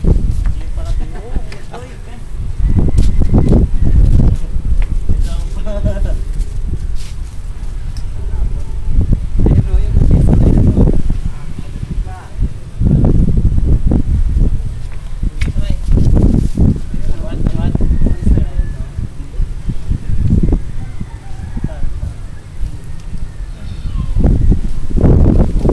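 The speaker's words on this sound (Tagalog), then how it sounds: "Hala, mahangin na. Yun ang dami yung paghangin." Strong gusts of wind on a hotel rooftop buffet the microphone in loud, surging roars that rise and fall repeatedly.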